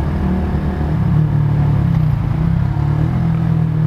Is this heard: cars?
yes